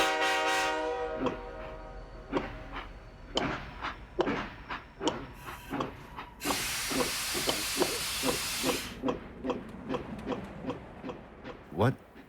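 A steam train sound effect: a horn-like whistle tone opens over rhythmic, evenly spaced chuffs, then a loud burst of venting steam hiss. The chugging beats carry on steadily to the end.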